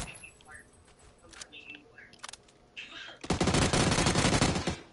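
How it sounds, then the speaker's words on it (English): Sustained automatic gunfire in the battle-royale game PUBG bursts in loudly after a few scattered shots, filling the last seconds with a dense, continuous rattle while players talk over the earlier part. "Is he shooting at me?"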